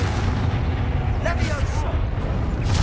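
Spell blasts from Hogwarts Legacy, Confringo and Bombarda, rumble as a dense, loud, continuous barrage of booming impacts and explosive roar filling the whole moment, with game combat noise layered throughout.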